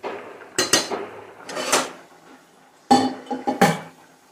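Several sharp metallic clanks and rattles of a lid being set over a pot of rice with lemon in a kitchen, arriving in two clusters with quieter handling between, no talking.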